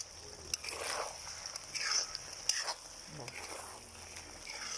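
Beef curry with curry leaves is stirred in a pan: soft, uneven scraping and faint sizzling bursts come and go, fairly quiet and close.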